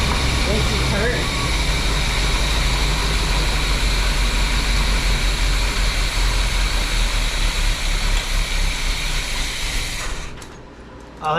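A Chevrolet Corvette Stingray engine runs loud through its exhaust, a close, steady, rumbling roar that holds for about ten seconds before dropping away abruptly near the end.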